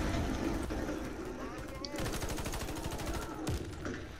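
Video game gunfire in Warface with a WWI setting: scattered shots, then a rapid automatic burst of close, repeated cracks lasting over a second, amid battle noise and voices.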